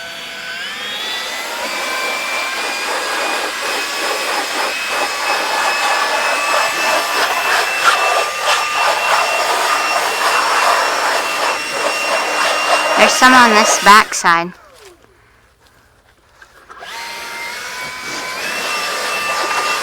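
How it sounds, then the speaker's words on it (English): An electric leaf blower whines loudly and steadily at close range, briefly cutting off and then starting up again, with a person speaking briefly over the noise. "And then I can take my electric leaf blower."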